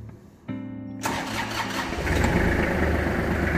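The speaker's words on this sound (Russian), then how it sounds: "Давайте сделаем запуск трактора." A Kubota GL23 Japanese mini tractor fitted with a loader turns over with a starter whine, catches and settles into a steady, chugging diesel idle close by.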